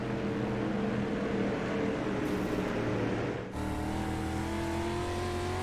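Dirt track race cars roar around Weedsport Speedway in a PTM Racing Dirt Series event, engines droning loud and steady, with a pitch shift midway as cars pass each other close by.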